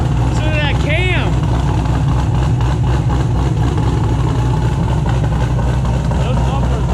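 A C5 Corvette fitted with new cylinder heads and a performance cam idles with a loud, steady low rumble, while people talk excitedly over it nearby.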